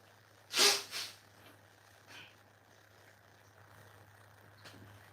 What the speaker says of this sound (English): I'm gonna blow my nose before I take my dab.